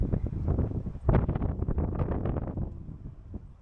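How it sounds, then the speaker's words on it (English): Gusty wind buffets the microphone in rough, low rumbling bursts, with one stronger gust partway through before it eases off. "All right, it's windy."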